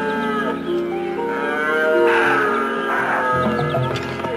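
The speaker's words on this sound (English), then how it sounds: "answers the bellows of unseen challengers, rivals for his females" A rutting stag deer bellows in mating season, with a series of loud, drawn-out low calls repeating close by for several seconds and no other sounds.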